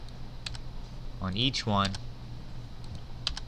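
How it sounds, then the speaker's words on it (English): Keys pressed on a computer keyboard, heard as a few faint, sharp clicks spaced apart, with a brief spoken phrase in the middle. "Hit delete on my keyboard"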